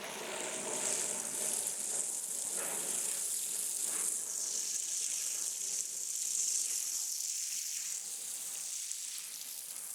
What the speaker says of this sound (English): So I'm making sure I give each root a nice amount of water.